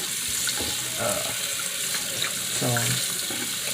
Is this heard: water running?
yes